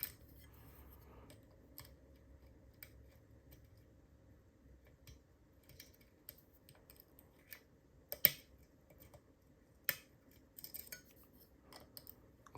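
A GD cruciform padlock is being picked in a quiet room, with faint scattered metallic clicks and ticks from its pins and a few sharper snaps.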